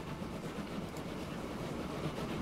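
Trains roll around the tracks in the game Transport Fever 2 with a continuous low rumble and faint rhythmic wheel clatter. The sound is steady, soft and somewhat distant, with no voices.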